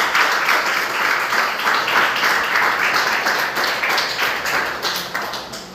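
A church congregation claps in praise at the close of a sermon, a dense, steady wash of many hands that stays loud and continuous throughout with no talking over it.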